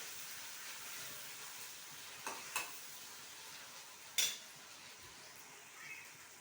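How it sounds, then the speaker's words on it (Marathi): Garlic-cumin paste being stirred into onions in a pan while cooking a bitter gourd vegetable dish: a steady low sizzle under faint scraping, with a few brief louder clinks and scrapes of the spoon. "लसूण जिऱ्याची पेस्ट मी फिरवून घेत आहे. आता एकत्र करून घेत आहे कांद्यामध्ये."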